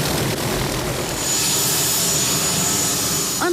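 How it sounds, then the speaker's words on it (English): A big sheriff's rescue helicopter used for mountain traffic accidents flies steadily, giving a loud, continuous engine and rotor roar with a thin high whine throughout and no talking. "This big old helicopter, known as Air 5, spends a lot of time helping at mountain traffic accidents"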